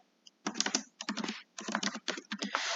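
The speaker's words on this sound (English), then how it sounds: "I'm going to type in makeup routine in all caps" Rapid typing on a computer keyboard comes in close, crisp bursts of clicking keystrokes separated by brief pauses, with no talk over it.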